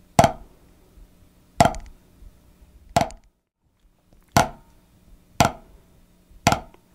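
Right-hand flams played with sticks on a drum, six crisp separate strokes about one and a half seconds apart, each a quiet grace note followed at once by a louder accent, close and alone with no talk.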